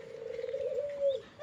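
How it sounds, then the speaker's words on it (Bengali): A young native pigeon, black with a crested head, gives a single soft drawn-out coo lasting over a second, close and clear against a quiet background. "এটা আমার দেশি কবুতর"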